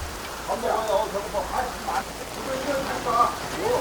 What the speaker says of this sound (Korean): 어우 비 너무 많이 온다.